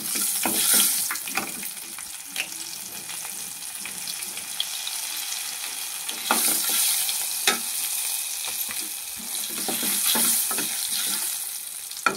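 Cumin, mustard seeds and fresh curry leaves fry in hot oil for a dal tempering, giving a steady close sizzle with crackling pops and occasional stirring scrapes throughout, no talking.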